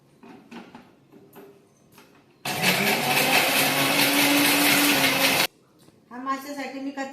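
A mixer grinder whirs loudly for about three seconds, grinding a raw masala of kokum, coriander, coconut, onion, garlic and ginger for tilapia fry. Someone talks before and after.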